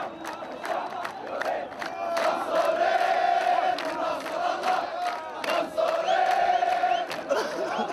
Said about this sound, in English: There was nothing to stop the rush to the Pearl roundabout, and the crowd began celebrating.